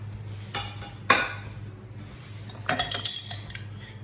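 Boiled potatoes tipped into a bowl for Delhi aloo chaat, with scattered clinks and knocks of a spoon against the bowl and a cluster of rattling, scraping taps near the end.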